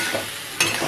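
A spice paste loosened with rice-rinsing water is stir-fried in a pan, making a brief close sizzle and hiss with one sharp scrape of a spatula, and no voices.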